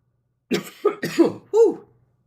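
A burst of four harsh, close coughs in quick succession, the last one longer and fuller, then silence.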